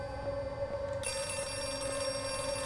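A telephone rings inside the horror video game Outlast 2, a steady, continuous electronic ring with a sustained tone that carries through the whole stretch with no talking over it.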